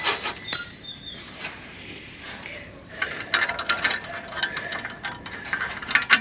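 A ratchet clicks in bursts while snugging the pinch-bolt nuts on an exhaust clamp of a Ford Fiesta ST150 with a Sportex exhaust, close and fairly loud with rubbing metal between strokes.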